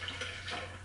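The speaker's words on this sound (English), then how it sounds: "So we are going to put the water in." Water poured from a container into a blender or shaker for a Shakeology chocolate protein shake, a steady close splashing pour lasting under a second with a low hum underneath.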